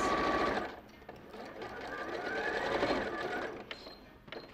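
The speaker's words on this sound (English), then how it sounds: "so we'll just sew a centimetre and a half seam allowance" A sewing machine stitches a seam with a 1.5 cm seam allowance during a live sewing demonstration, running steadily and fairly loud for several seconds with a brief slowdown near the end.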